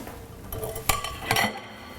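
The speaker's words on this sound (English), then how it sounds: "And you give this a good stir." A spoon scrapes and clinks against a bowl while a chocolate mixture is stirred, with a few sharp knocks over a soft, steady scraping, close up and with no talking.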